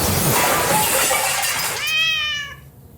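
A cat meows in the horror video game Summer of '58, a few loud rising-and-falling cries over a dense harsh noise bed that cuts off abruptly near the end.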